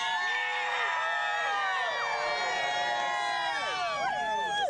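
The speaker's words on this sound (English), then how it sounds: "The crowd's getting really excited too." A large crowd gathered outdoors for the total solar eclipse of 2017 whoops, shouts and cheers continuously in a loud, dense wash of overlapping voices.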